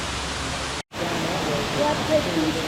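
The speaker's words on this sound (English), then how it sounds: "Look at the waterfalls." Waterfalls at Watkins Glen State Park, a steady broadband rush of falling water heard close by, broken by a brief cut, with faint voices under the roar.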